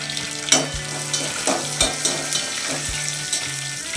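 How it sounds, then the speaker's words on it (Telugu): Curry leaves and crushed dried red chilies sizzle in hot oil, a steady close crackle with a few sharp spatters and stirring clinks, cooked as a Navratri festival prasadam offering. "ఇప్పుడు దీనిలో ఒక 2 రెబ్బల కరివేపాకు ఆకులు, మరియు 2 ఎండుమిరపకాయలు కొట్టుకొని వేసుకున్నాను"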